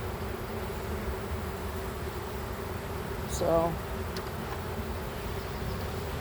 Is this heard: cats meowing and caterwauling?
no